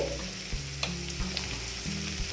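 Kashmiri red chili powder fries in a pan while cooking a shol fish dish, a quiet steady sizzle with soft rhythmic stirring scrapes and a few faint ticks.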